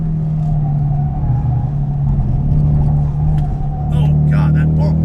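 A Cobb-tuned car's engine driven hard hums in a loud, steady drone over heavy low road rumble, swelling slightly near the end.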